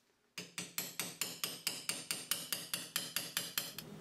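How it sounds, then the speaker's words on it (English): A small hammer taps a castle nut on an early Ford banjo axle. About fifteen quick, evenly spaced metallic strikes ring out close and crisp in a quiet shop. "Smallest hammer you got, just to tap it down"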